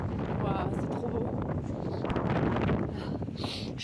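Strong gusting wind buffets the microphone on a cliff-edge mountain hiking path, a loud continuous roar with rumbling low end and no pauses.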